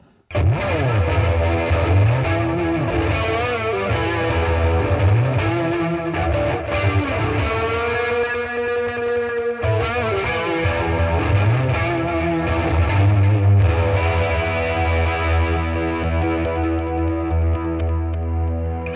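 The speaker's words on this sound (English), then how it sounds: "So that was like a flangey effect with the delay and the reverb." An electric guitar plays through flanger, delay and reverb effects on a 50-watt practice amp, its notes sweeping and smearing into a lush, sustained wash of distorted tone.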